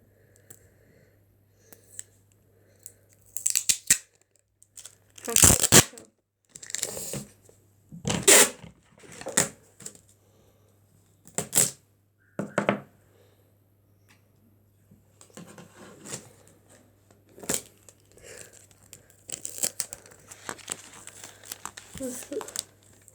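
Adhesive tape torn off a roll and pressed down in a series of sharp crinkling rips and pats, close and intermittent, with a low steady hum underneath and quiet talking between bursts.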